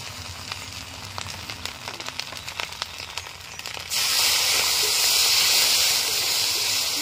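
Ground spice paste hits hot oil with a loud, steady hiss and sizzle that starts suddenly partway through. Before it, softer frying crackles sound in the pan where grated coconut has been browning.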